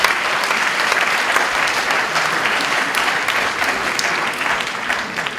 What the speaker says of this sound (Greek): θα ήθελα ένα χειροκρότημα και για τις Κίκονες